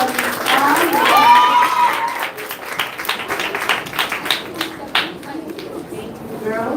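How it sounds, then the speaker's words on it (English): At a girls' Year 6 transition ceremony, applause for Sister Misbah follows a spoken introduction. The clapping rises in scattered, uneven bursts alongside crowd chatter. "A round of applause for Sister Misbah."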